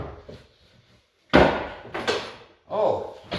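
An old hidden drawer in a sewing machine cabinet is pulled open, giving a sharp wooden knock and slide followed by further bumps, with brief talk around it.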